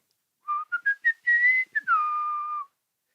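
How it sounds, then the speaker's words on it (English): A person whistles a short melodic phrase alone: several quick chirping notes followed by a longer sliding tone, clear and close. "I can try to whistle"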